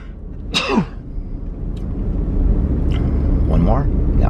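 A single sharp sneeze near the start, close and loud, followed by quiet room tone and a few faint breathy throat sounds, no talk over it.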